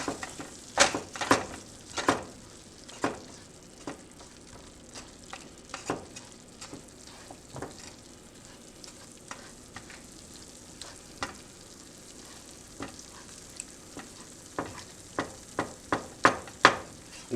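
Ground meat fries in a pan for nachos, a soft steady sizzle broken by repeated sharp scraping and tapping as a utensil crumbles it, busier near the end.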